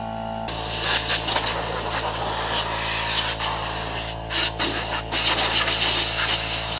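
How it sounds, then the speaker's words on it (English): Rust fix sprayed from a can onto a rusty vehicle frame being prepped for welding, a loud steady hissing jet held for several seconds with a few brief pauses near the end. "Spray it down with some of that rust fix stuff."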